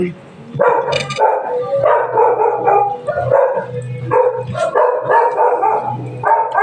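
A dog barking in repeated short, loud bursts close by, mixed with people talking over it.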